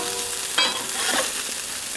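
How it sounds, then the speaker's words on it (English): Onions sizzle steadily on a hot grill as they char, a dense, close frying hiss with a brief scrape and clatter as they are flipped. "And the onions, I'm just going to put up front, just give it a bit of a char."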